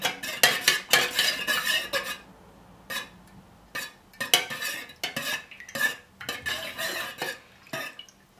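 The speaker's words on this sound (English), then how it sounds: "I'm going to stir for almost a minute." Dye is stirred into melted wax for wax melts, making repeated bursts of scraping and clinking from a utensil against the container, with short pauses between strokes.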